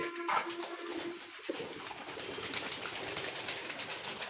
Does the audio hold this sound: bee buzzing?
no